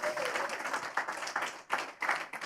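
A church congregation applauding steadily, with bursts of clapping that swell and dip in waves, fairly loud and close.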